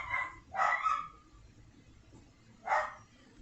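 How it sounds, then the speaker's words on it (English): A dog barks nearby in two short bursts, a quick double bark early on and a single bark near the end, with faint room noise between. "my dog's barking."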